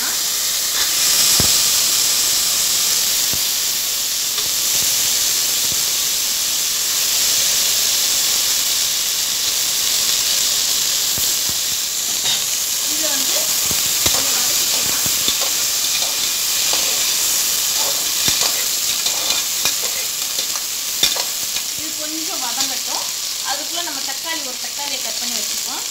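Chopped vegetables for bisi bele bath fry in a hot pan with a continuous loud hiss and sizzle, and a spoon stirs and scrapes now and then. The sound runs throughout and is fairly close.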